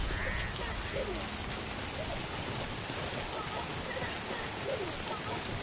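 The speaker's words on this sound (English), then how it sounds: "once we're out the rain" Steady rain hisses continuously and fairly loudly as an even wash of drops, with faint bird-like chirps now and then.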